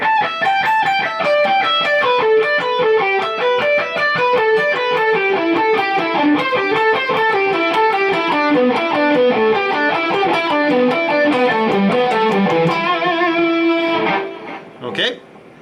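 A distorted electric guitar plays a long, flowing lick at an unhurried pace, notes weaving up and down, then stops abruptly near the end.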